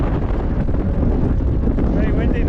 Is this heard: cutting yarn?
no